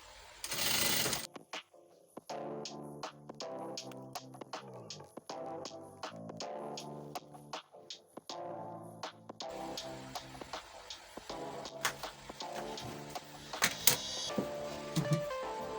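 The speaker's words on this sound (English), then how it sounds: "So now that we've sewn this one, I'll go ahead and repeat the same thing for the other fabric, then the lining." A sewing machine stitches corset mesh fabric in quick, rhythmic runs, pausing briefly before starting again more loudly and densely, heard alone and up close.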